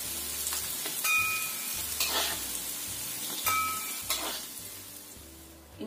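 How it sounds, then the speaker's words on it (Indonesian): Tempeh sizzles steadily in hot frying oil in a pan for Indonesian home cooking, with a dense continuous crackle and a few soft scraping stirs, close and fairly loud, with no talking. "kalau suka kering lebih bisa digoreng sebentar lagi"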